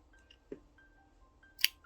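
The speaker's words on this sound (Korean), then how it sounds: "쭉 당겨주고 잘라줍니다" A single crisp snip of scissors cutting crochet yarn after a slip-stitch handle is pulled tight, close and short near the end, preceded by a softer tug of yarn in a quiet room.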